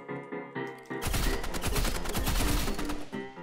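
Gunfire in the Roblox Rivals video game: a few single shots, then a dense sustained burst of rapid automatic fire, ending with another isolated shot.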